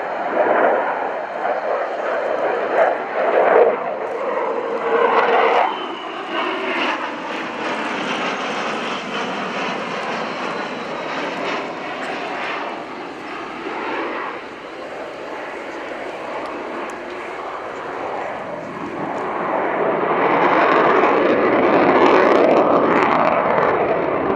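A Swiss Air Force F/A-18 Hornet flying an airshow display at Fairford, a loud continuous jet roar that rises and falls as it passes, with an announcer talking over it.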